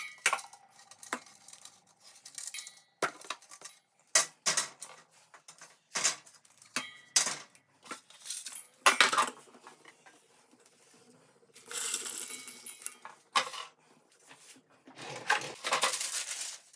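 Dried, leathery onion pieces are pulled off dehydrator trays, giving close, irregular clicks, taps and light scrapes in quick bursts, along with longer clattering rustles toward the end.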